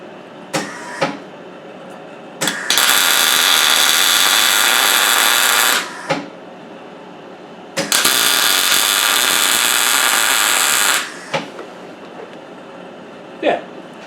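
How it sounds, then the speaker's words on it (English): Two long, harsh crackling bursts of welding, each about three seconds, tack a clutch bush in place on a grounded bench, separated by quieter gaps with a few sharp clicks and knocks. "because the bench is ground I can now put a little tack weld on there"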